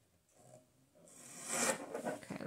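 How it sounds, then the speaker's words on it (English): Scissors slicing through paper for a small mini junk journal, a soft swishing cut that builds from faint snips into a louder, close rasping stretch near the end, with no talking. "And then I can cut a straight line."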